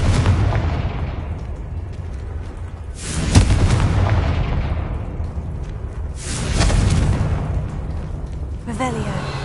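Blasting spell explosions from the Confringo curse in the Hogwarts Legacy video game, two loud booming bursts a few seconds apart with rumbling tails, the second followed by a brief crackle.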